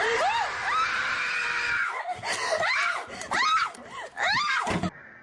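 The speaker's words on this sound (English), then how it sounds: "you can hear a loud voice like a creature is shouting or screaming in the background" Creature-like screaming and shrieking in a horror video: a long wavering high cry, then a string of loud rising-and-falling shrieks one after another, close and harsh, with a voice-like, almost human quality.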